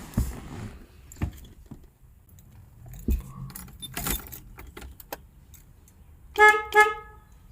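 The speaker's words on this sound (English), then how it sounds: "the horn button works" A Porsche 944's horn, through a newly installed Momo Prototipo steering wheel, honks in two short blasts near the end, following scattered clicks and handling noises in a quiet space.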